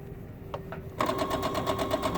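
A sewing machine runs a straight stitch, starting with a couple of faint clicks, then a steady rapid mechanical whir and needle chatter close by.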